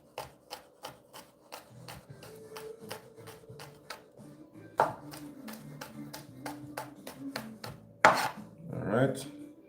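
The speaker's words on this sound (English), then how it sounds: "So now we're gonna mince up the garlic" A knife minces two fresh garlic cloves on a board in quick, regular chops, near and fairly quiet, with a few louder knocks and some handling noise near the end and no talk.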